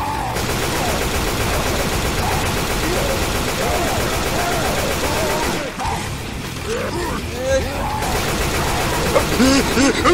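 Dense, continuous gunfire in Left 4 Dead 2 on a custom Loony Park map, rapid overlapping shots pouring into the Tank, loud and relentless, with a brief lull before the shooting resumes.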